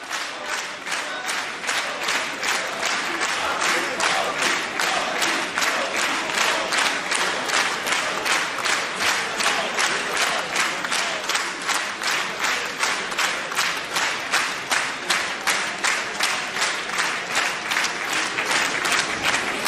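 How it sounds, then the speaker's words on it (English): Sustained rapturous applause inside the Israeli Knesset for the Indian Prime Minister, a large chamber full of rhythmic, synchronized clapping that stays loud and steady for the whole span, with crowd voices underneath. "A rapturous applause for the Indian Prime Minister."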